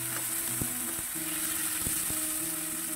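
Garlic and onion sautéing in hot cooking oil, with a tomato going into the pan, give a steady, close frying sizzle broken by a few sharp clinks of a utensil against the pan.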